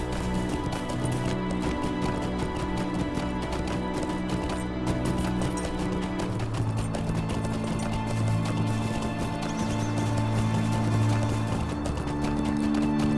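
Horse hooves galloping in the Lord of the Rings Online video game, a steady clip-clop running under continuous game music for the whole stretch.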